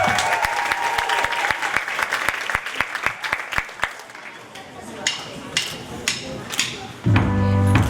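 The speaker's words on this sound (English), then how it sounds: "Let's have a big round of applause." A school battle of the bands audience claps, the applause beginning dense, thinning into scattered claps and chatter, before the band starts playing at the end.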